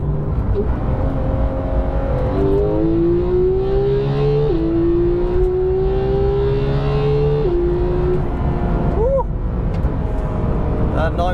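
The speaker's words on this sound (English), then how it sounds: "The engine's got a really raspy note." A high-revving Porsche 911 991.2 GT3 engine with a raspy, rising note, climbing in pitch through the gears, with talk running over it.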